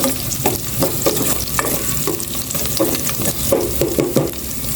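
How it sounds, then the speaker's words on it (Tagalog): Garlic frying in hot oil in a home pan, a steady crackling sizzle with repeated stirring scrapes of a utensil, close and fairly loud throughout, with no talking. "Yan, mainit na po. Lalagyan na po ni Mama yung bawang."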